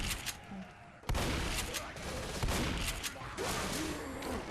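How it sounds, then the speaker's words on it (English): A shotgun fires in the zombie shooter Left 4 Dead amid chaotic gameplay noise, with a sharp blast followed by rough, dense shooting and clatter, close and loud, with a voice briefly audible. "good old shotgun. A nice spread shot. But yeah, nice power, but it's got a really long reload"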